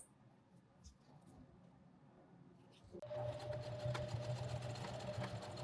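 Sewing machine stitching a folded-over nylon webbing strap end through a buckle: after quiet handling, a steady whirring run of stitches starts and continues, faint and close.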